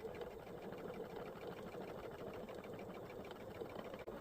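A sewing machine stitches quilting fabric close up, its needle chattering in a fast, even rhythm that holds steady for the whole stretch with no voices.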